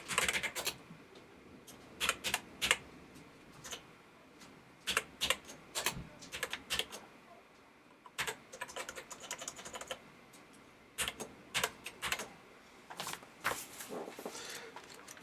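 Typing on a Yamaha CX5M computer keyboard, irregular bursts of sharp key clicks with short pauses between runs, close but fairly quiet against a faint background hiss, no talking.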